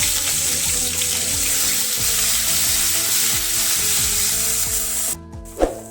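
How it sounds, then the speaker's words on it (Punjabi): Loud, steady sizzling of cumin, pounded ginger and garlic frying in hot oil fills the clip, briefly cutting out near the end before a soft clink. "ਤੇਲ ਦੇ ਵਿੱਚ ਇੱਕ ਚਮਚਾ ਜੀਰਾ ਪਾ ਦਵਾਂਗੇ ਜੀਰੇ ਨੂੰ ਤੜਕ ਲਵਾਂਗੇ"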